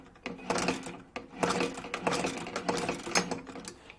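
Hand-cranked sewing machine stitching a leather belt, a series of rhythmic mechanical clattering bursts with short pauses between them, close and clear.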